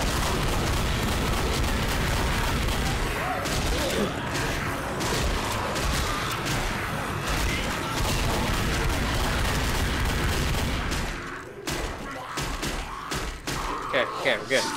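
Dense, sustained gunfire from the zombie shooter Left 4 Dead, a continuous loud barrage of rapid shots for about eleven seconds, then thinning into scattered bursts, with players' voices talking over it.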